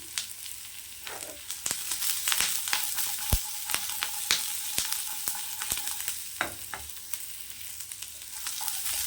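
Onions sauté in a pan for an egg gravy, a soft constant sizzle broken by frequent sharp clicks and scrapes of a spatula stirring.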